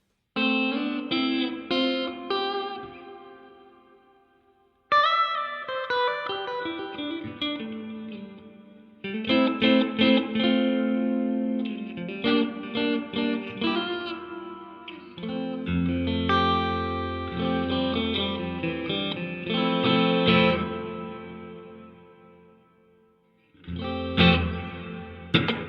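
Electric guitar played through a Donner 2-in-1 reverb and delay pedal with the room reverb turned fully up, phrases ringing out in a long washy tail, with a few pauses and no talk.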